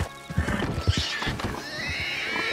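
A horse in the video game Red Dead snorts and whinnies while hooves clop in an uneven rhythm, close and moderately loud.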